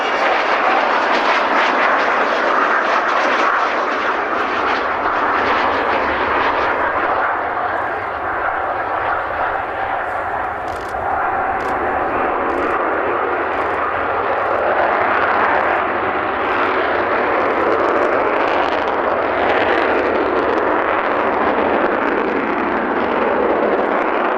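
Fixed-wing aeroplane passing at a Cosford air show, its undercarriage retracting, making a loud, continuous jet-engine roar that swells and holds throughout with no talking.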